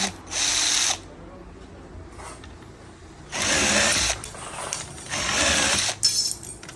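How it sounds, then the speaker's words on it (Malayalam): A cordless sheet cutting machine cuts through metal sheet in three separate bursts of loud, high-pitched motor whine, with quieter gaps between them. "ഇത് നമുക്കൊരു ഷീറ്റ് കട്ടിങ് മെഷീൻ ഇതൊന്ന് കട്ട് കട്ട് ചെയ്ത്"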